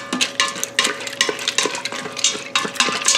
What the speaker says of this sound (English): we're just gonna give that a little mix